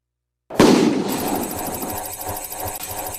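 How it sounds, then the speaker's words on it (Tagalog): A single sharp firecracker bang goes off nearby, launching a tin can, followed by a few seconds of rattling, clattering noise as it fades. "paliparin natin tong lata gamit tong paputok"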